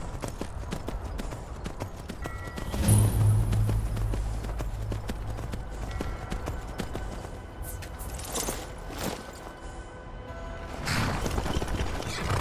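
Horse hooves clip-clop steadily on the ground in the video game Skyrim, a continuous rhythmic patter over ambient game sound with no talk.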